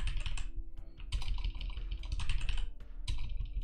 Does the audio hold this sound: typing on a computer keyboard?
yes